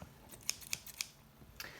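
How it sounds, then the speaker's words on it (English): Scissors are handled during origami work, giving three sharp, quiet metallic clicks in quick succession, then one softer snip after a pause, with no talking. "So now you're going to need your scissors"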